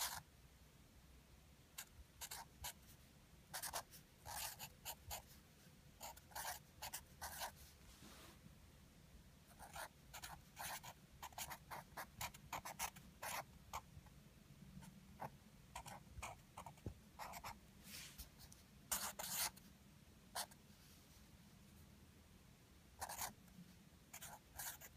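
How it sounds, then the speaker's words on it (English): Bic markers scratch and squeak across paper in repeated short strokes, some tracing a peace sign and words, close and fairly quiet over a faint steady background hum, with no talking. "Do a peace sign. Write some words."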